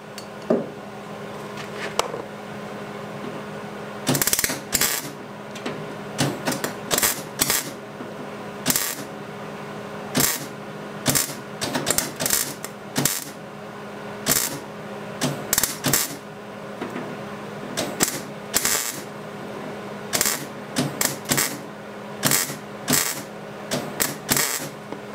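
MIG welder laying short tack bursts on thin sheet metal to fill small holes, a series of sharp crackling zaps spaced irregularly over a steady low hum, close and fairly loud, with no talking.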